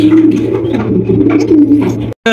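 A pair of bright red Golla pigeons coo in a steady, low rolling murmur, close and loud, continuing without pause until a brief cut at the end.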